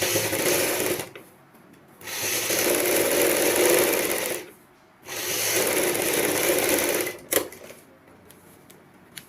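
An electric sewing machine stitching a strip onto a choli, running in two steady bursts of a couple of seconds each, separated by short pauses with light handling clicks and knocks.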